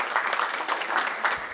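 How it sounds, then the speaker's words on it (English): Audience applause for a live painter at a talk, steady clapping with a few louder surges across a short stretch, no voices over it. "Let's give her another round of applause."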